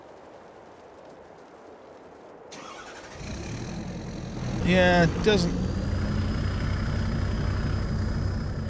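A 450-horsepower truck in Farming Simulator 22 idles quietly, then its engine starts up and settles into a steady loud running drone with a high whine, while someone talks briefly over it.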